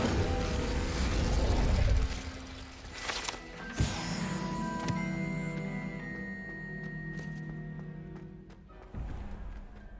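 Incendio fire spell cast in the Hogwarts Legacy video game, heard as a sharp burst and crackle with a low boom, followed by mechanical clatter and lingering tonal game effects, no voices over it.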